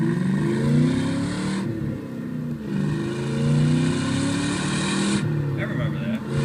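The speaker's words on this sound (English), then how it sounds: "This was a microphone that was placed real close at the back of the car and captured" Close-miked exhaust of a Mustang, recorded right at the rear of the car: a deep, throaty engine rumble that swells and eases in waves across the whole stretch, loud and steady with no talk over it.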